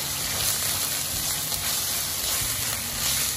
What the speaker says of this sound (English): After frying the onions for about 2 minutes